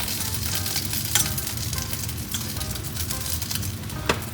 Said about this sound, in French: Ça fait une dizaine de minutes que mes parures sont en train de rissoler